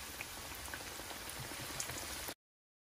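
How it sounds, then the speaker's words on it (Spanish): Potato tacos fry in hot oil with a soft, even crackle like light rain, quiet and continuous until it stops abruptly. "ya los voy a empezar aquí a dorar"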